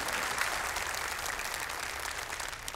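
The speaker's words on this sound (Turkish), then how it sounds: "Bir kez daha kendilerini alkışlıyor ve öylece uğurluyoruz." Audience applause at a Quran recitation contest, a steady, dense wash of clapping lasting the whole moment with no voices over it.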